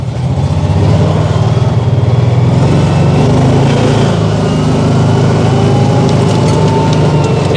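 A John Deere Gator utility vehicle's engine running loud and close in the cold, with a steady chugging idle and a continuous low rumble that holds throughout.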